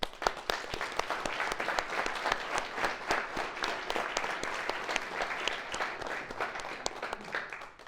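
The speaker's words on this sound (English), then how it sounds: "a big applause for them" Sustained audience applause at a real estate panel discussion event, many hands clapping steadily at moderate volume with crisp individual claps standing out over the crowd.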